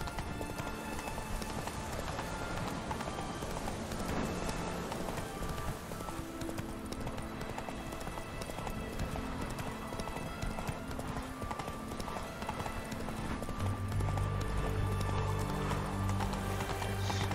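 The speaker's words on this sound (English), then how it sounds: "I can only canter with, Roach" Galloping-style clip-clop of the horse Roach's hooves cantering in The Witcher 3, a steady rapid rhythm running throughout over game music and ambience, with a brief neigh possible.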